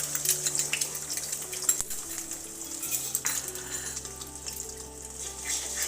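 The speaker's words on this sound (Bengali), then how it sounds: "এবার আমি এখানে ফ্যাটানো ডিমটা দিয়ে দেব।" Beaten egg frying in hot oil in a wok sizzles at close range, a steady crackling hiss broken by a few sharp metallic clinks, with no talk.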